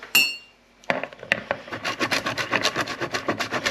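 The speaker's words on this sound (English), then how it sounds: "we want a bit of a grating of parmesan" Parmesan cheese rubbed against a grater for a spinach and ricotta tart filling, a clink of setup then a run of quick, rhythmic rasping strokes, close and distinct.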